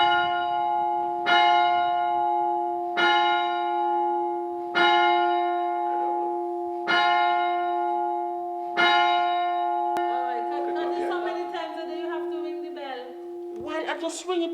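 Church bell of St. George's Anglican Church ringing in close, loud strokes: five evenly spaced rings with long humming decay, followed by a steady sustained tone under a jumble of softer sounds and a final sharp knock.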